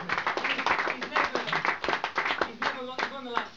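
Dinner guests clapping at an end-of-season league dinner, a close burst of hand claps from a modest group, mixed with cheers and voices talking over it.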